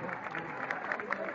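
A crowd at a 23 April National Sovereignty and Children's Day celebration claps in brief, fairly faint applause, a steady patter of many hands with a voice speaking over it.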